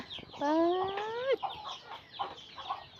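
A chicken on a rural farm gives a rising, drawn-out squawk followed by a few soft clucks, faint and a little distant, alone without talk.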